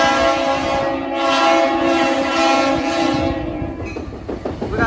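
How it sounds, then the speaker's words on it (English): A loaded Amtrak ballast work train rolls past close by, its horn sounding over a steady rumble and rhythmic clatter of wagons on the rails, with the horn fading near the end. "This looks like a loaded ballast train."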